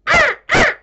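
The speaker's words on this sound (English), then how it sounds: "Crows." Two loud, harsh crow caws ring out close by in quick succession, each about a quarter second long, with no other sound around them.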